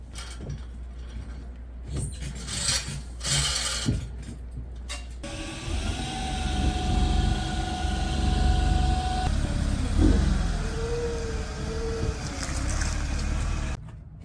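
A forklift hoisting an old sailboat's engine in a small workshop, its motor droning and whining steadily close by after a few seconds of clatter, with rising and falling hydraulic tones.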